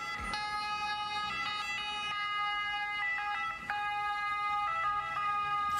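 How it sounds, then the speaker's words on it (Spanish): A loud, continuous siren with steady wailing tones, close and dominant across the whole stretch, its pitch pattern shifting as it cycles; no talking over it. "¿Qué es esa sirena?"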